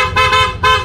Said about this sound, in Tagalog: Ayan guys, na-installed na ang ating Kia horn. Sound check naman dyan,